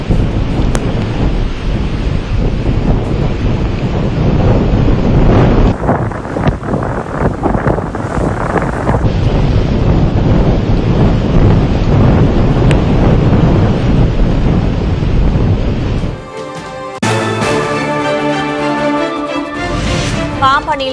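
Rough sea whipped up by strong storm winds at Pamban, a continuous loud roar of wind and surf buffeting the microphone, which gives way near the end to a news music sting.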